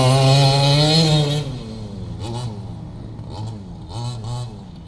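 A Redcat Rampage XT RC monster truck's small engine revs loudly and close in a buzzing burst, then drops to a rougher idle with small throttle blips.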